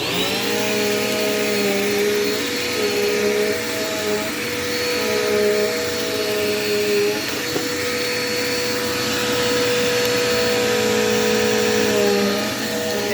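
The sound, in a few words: Dirt Devil Quick Power vacuum cleaner running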